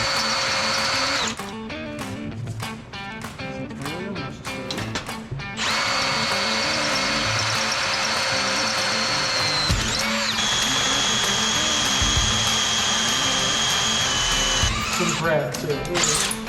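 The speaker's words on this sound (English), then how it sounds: "now that we've drilled the holes" Power drill boring holes in steel plates for a race Jeep, with long, loud whining runs broken by short stuttering bursts and pauses, and voices talking between passes.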